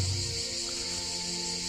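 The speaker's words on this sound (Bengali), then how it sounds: "ঝিঝি পোকা ডাকছে" Crickets in the evening outside a quiet rural hut make a steady, shrill, unbroken chirring drone. It is moderately faint over a low background hum, with no voices.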